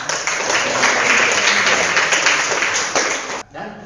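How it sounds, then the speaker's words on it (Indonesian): A class gives a round of applause, dense steady clapping that fills the room and then cuts off abruptly near the end. "Sekali lagi kita beri tepuk tangan."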